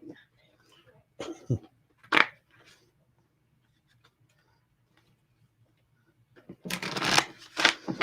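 Tarot cards shuffled during a live psychic reading, with a few short riffles early on and then a louder, longer burst of shuffling near the end, close and otherwise quiet.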